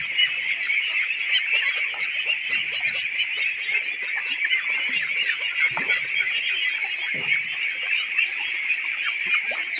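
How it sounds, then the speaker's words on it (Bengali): About 1500 ducklings, roughly four weeks old, on a duck farm, keep up a dense, continuous chorus of overlapping quacks and peeps from a nearby flock. "এখানে 1500 হাঁসের বাচ্চা রয়েছে, যাদের বয়স প্রায় 28-29 দিন।"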